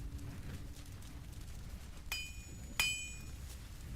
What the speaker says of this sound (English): Hammers clanged, and the anvils sang as he worked.